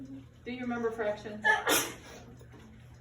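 A single sharp sneeze bursts out in a classroom, right after a teacher's spoken question and just before a quiet pause.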